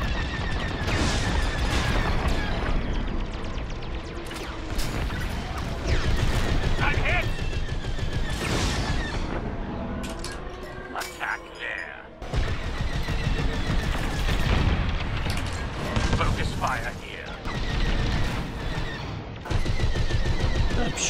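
Blaster and cannon fire from starfighters in the Star Wars: Squadrons space-combat game, loud rapid bursts and booming volleys crowding nearly the whole stretch, with a short quieter gap midway and a voice talking now and then over the shooting.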